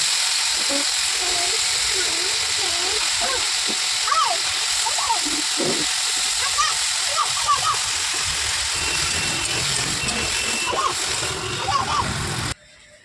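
Boiled potatoes are lightly fried again in oil in the same wok for an egg and potato curry, giving a steady broad frying hiss with faint stirring clinks throughout, ending abruptly.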